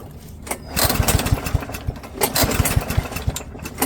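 An MTD Powermore lawn mower engine cranks with the choke pulled but fails to catch, a rapid run of close, loud pulling and turning-over strokes with no running engine afterward.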